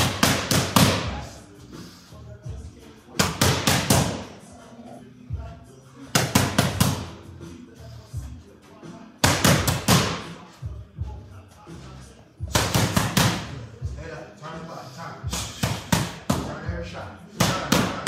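Hard boxing punches landing on pads in repeated bursts of loud, close thuds and slaps, coming in flurries separated by short pauses.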